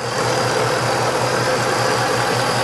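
A Ford 5-liter V8 in a 2016 Mustang GT Premium convertible with a 6-speed runs at a steady idle, a loud, even rumble with a low throb, heard close and alone.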